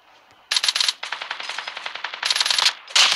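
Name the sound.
gunfire in the video game Call of Duty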